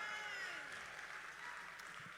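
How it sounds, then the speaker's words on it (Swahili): A crowd claps at an outdoor music award ceremony for Joyce Onyango, a steady wash of applause that stays moderately distant and even throughout. "Wapi makofi za Joyce Onyango?"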